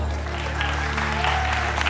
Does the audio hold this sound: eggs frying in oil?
no